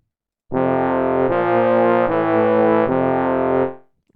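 Parallel fifths played as a short sustained chordal demonstration, a few held chords in steady succession with a hollow, chant-like monk quality, loud and close with no voices.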